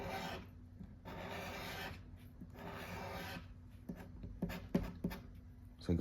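A coin or nail scratches an FDJ scratch-card lottery ticket in long, close, rasping strokes, starting with sustained bursts and then breaking into shorter scrapes and taps.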